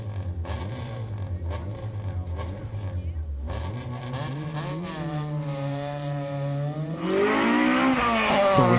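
A race car engine on a hill climb run, loud and near, revving hard through repeated gear changes, then pitching up sharply as it accelerates with a rising, strained whine toward the end.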